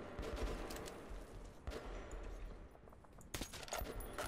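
Gunfire in the video game Metro 2033 Redux: a few sharp shots crack out in separate bursts against a low, rumbling in-game background, moderately loud with quiet gaps between them.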